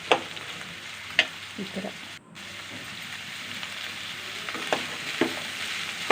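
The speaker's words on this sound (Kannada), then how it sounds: "ಅವು ಎಣ್ಣೆಯಲ್ಲೇ ಫ್ರೈ ಆಗಿಬಿಡ್ತವೆ." Carrots, beans and other vegetables fry in oil for shavige bath, a steady close sizzle with occasional stirring clatters and a brief spoken phrase.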